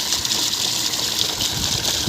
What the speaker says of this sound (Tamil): தண்ணி நல்லா அருமையாக வந்துக்கிட்டு இருக்குது